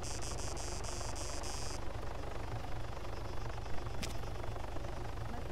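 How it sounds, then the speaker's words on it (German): A steady low helicopter drone with a rhythmic rotor thump, circling over an airport terminal in Arma 3 Altis Life, continuous and moderately distant, with a brief high electronic beeping early on. "Ein weiterer Helikopter kreist über den Flughafenterminal"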